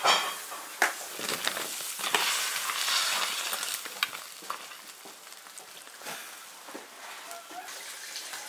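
A roughly five-jin duck and radish cook together in an iron wok. A steady, bright sizzle and bubbling is broken by occasional clanks and stirring scrapes, close up and without speech.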